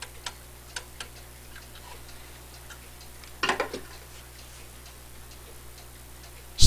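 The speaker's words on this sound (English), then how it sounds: "You can hear right here that it is quite obviously out of beat" A pendulum clock ticks unevenly and out of beat while its suspension spring is being set up. Sharp, faint ticks fall at irregular intervals, with a louder cluster of clicks near the middle.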